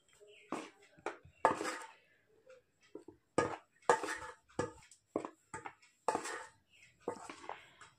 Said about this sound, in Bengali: 1 টিস্পুন চিনি, একটুখানি হলুদ দিয়ে এটা খুব ভালো করে মিশিয়ে নেব